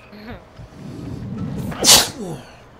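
A single loud, sharp sneeze bursts out near the microphone amid a noisy multiplayer shooter game session, with low rumbling game audio and voices around it.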